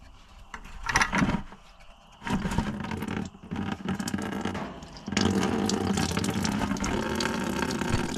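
Coolant drains from a John Deere 8300 tractor onto a shop floor, a steady splashing pour that swells and surges in loud bursts, with clanking shop noise between them.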